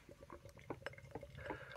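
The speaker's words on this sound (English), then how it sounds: "So let's pour it in," Beer from a Northern Monk Brew Co. mixed pack pours into a glass, giving a faint, steady glugging and fizzing close to the microphone with no voices.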